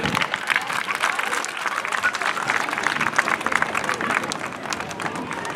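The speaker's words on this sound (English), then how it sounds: "One more round of applause for our" A crowd at a varsity high school football game applauds the senior team and their parents, with dense, sustained clapping and scattered cheers, fairly loud and unbroken throughout.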